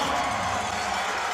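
Arena soccer crowd at a Major Arena Soccer League match, St Louis Ambush against Kansas City Comets, fills the stands with a dense, loud, continuous cheering roar.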